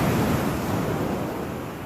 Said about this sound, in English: look how high those waves are. The rough seas, it's beautiful.